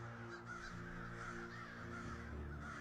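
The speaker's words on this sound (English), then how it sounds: "you hear a crow call in the distance." Crow cawing repeatedly at a steady distance over a dense, continuous outdoor background, the harsh calls standing out without any talk.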